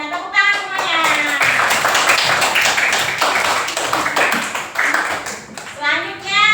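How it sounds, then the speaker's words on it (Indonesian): Children in a primary school classroom applaud a group that has just presented, a dense burst of clapping that lasts several seconds. A teacher and children talk over and around the applause. "Tepuk tangan semuanya."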